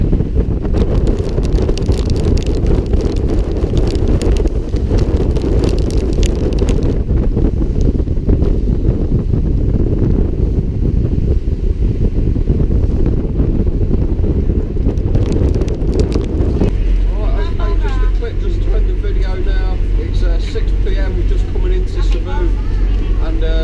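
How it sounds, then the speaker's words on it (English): Strong, steady wind roars across the microphone by the sea as a typhoon lingers off the coast near Cebu, a continuous buffeting rush with low rumble throughout and voices faintly under it. "That wind coming in."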